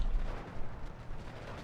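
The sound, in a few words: bomb explosions, from a video game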